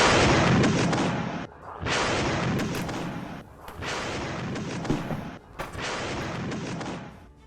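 Explosions from an Israeli military strike on a Hamas position in Rafah: several loud, heavy booming blasts in succession, each a sustained roar with brief gaps between, close and overwhelming.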